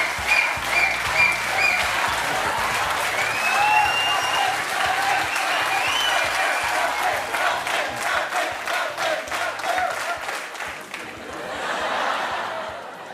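Sustained audience applause fills a TV show taping, dense and steady for several seconds with scattered chuckles and crowd noise mixed in, then thinning out near the end.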